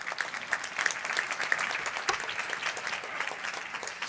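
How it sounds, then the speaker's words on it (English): An audience at a UNESCO global forum applauds a government minister, steady moderate clapping heard at some distance across a large hall. "Please give her an applause."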